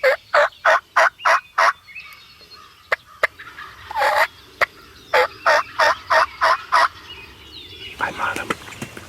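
A wild turkey gobbles repeatedly during a spring hunt in rapid, loud bursts, with a few sharp clicks and quieter rustling between the calls, close by in the open woods.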